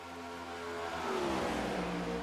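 Hyperdrive Cup Series race cars speed around Texas Motor Speedway, their engines rising in pitch as they approach and accelerate, a short, moderately distant revving whir with no talk.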